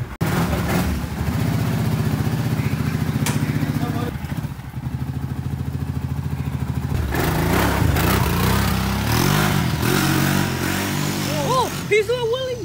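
A cheap four-wheeler ATV engine drones steadily off-road, then revs harder with rising pitch partway through, while people talk and exclaim over it.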